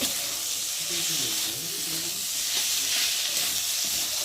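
Spice masala frying and being stirred with vegetables in a pan for a small-fish curry, a steady broadband sizzle with faint stirring scrapes and some water noise, a voice murmuring faintly underneath.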